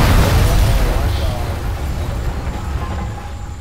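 A planted explosive charge blows up a base in Arma 3, a loud close blast whose heavy low rumble rolls on and slowly fades over several seconds.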